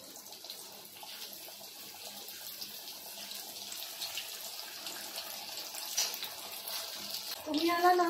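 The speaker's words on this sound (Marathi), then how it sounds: "तेल ना इथे छान गरम झालंय. आता आपण वड्या आहेत ना सोडून घेऊया." Spinach-coriander vadi pieces deep frying in hot oil give a steady, broad sizzling hiss throughout, rising slightly near the end as more bubbling crackles in close by.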